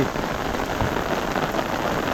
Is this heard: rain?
yes